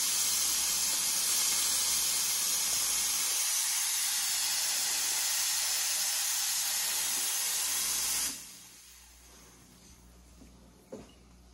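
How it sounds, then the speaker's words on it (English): Loud, steady steam hiss from the two-hole steam tip of an ACS Evo Leva espresso machine's wand runs for about eight seconds, then cuts off abruptly, leaving quiet background with a small clink. "lots of steam power on this. I'm using the 2-hole steam tip right now"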